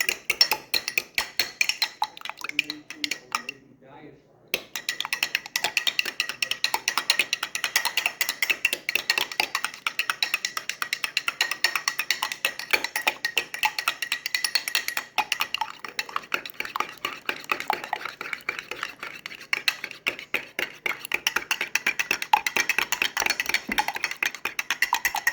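A spoon steadily stirs a matzo brei mixture in a bowl, producing quick, rhythmic scraping and clicking strokes close up that run almost without pause after a brief quiet start.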